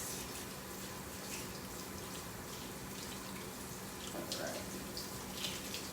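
Hot tap water runs steadily to wash parsley that fell into a box of raw chicken, a faint, constant hiss of flowing water with a few louder splashes near the end.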